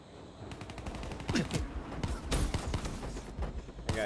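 Rapid bursts of automatic gunfire in Call of Duty Black Ops III, dense overlapping shots from close and mid range with hardly any speech.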